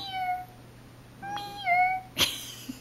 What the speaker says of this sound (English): Did I just hear my cat?